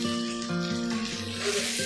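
Masala spice paste sizzling and frying in a pan for a chicken and potato curry, a steady soft crackle with a faint tonal hum in the background.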